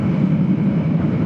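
A noisy Matarmaja passenger train rides on rails, heard from inside as a loud, continuous low rumble with steady rattling and no voices over it.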